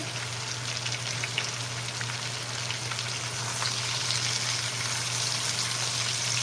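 Onions sizzling in a huge seasoned skillet, a steady, dense crackling hiss that stays close and even throughout over a low electrical hum, with no one speaking.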